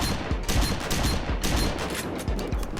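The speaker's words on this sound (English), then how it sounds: "s.t.a.l.k.e.r is the one automatic shotgun in the series." An automatic shotgun fires in a rapid burst in the STALKER video game. Several quick blasts follow each other closely, with dense, roomy noise filling the gaps, loud and without any talk.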